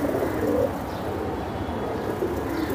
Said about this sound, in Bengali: এটা ভাই খুব ভালো কবুতর